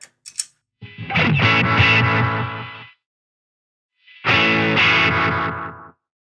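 Two bursts of heavily distorted electric guitar through a NUX Atlantic pedal set to a quarter-note slapback delay, each phrase trailed by quick echoes, loud and up close, separated by a short silence.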